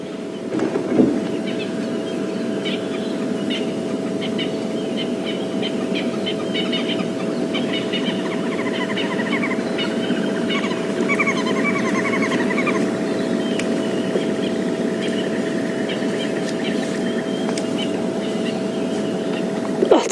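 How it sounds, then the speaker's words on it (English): Distant green wood hoopoes give chattering, cackling calls in bursts, partly buried under a loud steady mechanical drone and wind noise. "You can hear some green woodhoopers, or red-billed woodhoopers as I used to know them."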